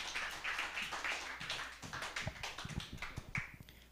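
Scattered applause from a church congregation welcoming a speaker during a Sunday morning service. The claps are fairly faint and uneven, thinning toward the end, with a few sharper nearby claps standing out.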